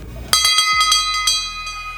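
A bright brass bell on an antique fire truck is struck repeatedly in an uneven rhythm, loud and close, with long ringing tones that sustain and overlap between strikes.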